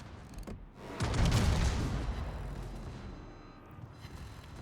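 Heavy naval guns from a roaming ship in a World of Warships-style ranked battle fire a loud booming salvo that rolls on with a long rumbling tail, targeting torpedo bombers; no talk.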